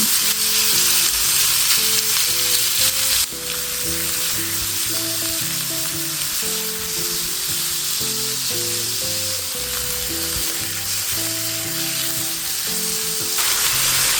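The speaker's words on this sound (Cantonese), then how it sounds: "呢個豬肉咧都有厚度嘅，我哋大約炒佢4分鐘左右啦" Thick slices of Iberian pork frying in a little oil in a pan, a loud continuous sizzle and crackle under steady background music, close and unbroken throughout.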